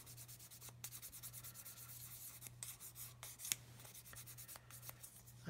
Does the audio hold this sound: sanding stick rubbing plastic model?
yes